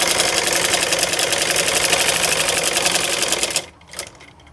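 A sewing machine stitches a trouser pocket with a fast, even mechanical chatter, loud and close, then stops abruptly near the end, leaving a brief soft clack.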